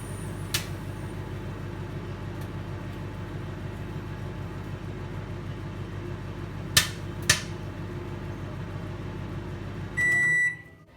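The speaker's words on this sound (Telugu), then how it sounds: "ఈ ప్లేట్ని మైక్రోవేవ్లో పెట్టేసి ఒక 30 సెకండ్స్ పాటు వెల్లుల్ని హీట్ చేయాలి" Garlic cloves on a plate heat inside a microwave oven, a low steady hum running throughout with a few faint sharp ticks and pops, then closing with a short electronic beep.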